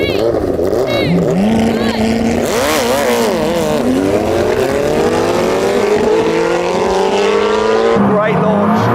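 Koenigsegg Jesko and a supercharged Suzuki Hayabusa launch in a drag race, a loud, close engine roar with rising revving sweeps as both accelerate hard, continuous and dominant throughout.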